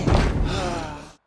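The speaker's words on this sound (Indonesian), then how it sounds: "Sebelum pintu didobrak" A door being broken down: one loud, heavy crashing impact followed by a short rumbling decay that cuts off into silence.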